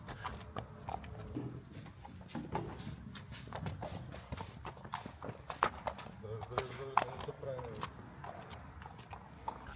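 Horses led out after a training session at a riding school, hooves clip-clopping in irregular steps at moderate distance, with people talking throughout and general yard noise.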